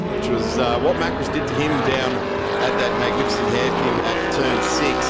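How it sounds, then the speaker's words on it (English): A deep, steady Lamborghini Super Trofeo V8 race-car engine drone runs continuously in the background while a commentator talks excitedly over it, at The Bend Motorsport Park. "The big V8, you can actually hear it in the ambient sound in the background."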